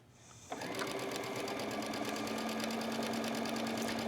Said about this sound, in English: I'm going to sew 1/4 inch on either side of that line that I just drew